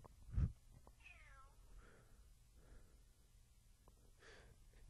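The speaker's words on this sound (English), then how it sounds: "that was my cat in the background" A house cat meows a few times in the background, faint drawn-out calls with a soft snort and breaths between, distant and alone in a quiet room.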